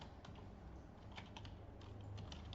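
Someone types on a computer keyboard while writing a letter, giving quick soft key clicks in a short burst over a steady background hiss, faint and close.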